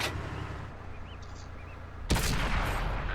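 A British Cromwell tank fires its main gun during a World of Tanks console battle, a single loud boom cutting in sharply over steady engine and battle rumble.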